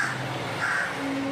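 Crow cawing in a morning outdoor setting, a couple of harsh caws close and clear against steady background noise, with no voices.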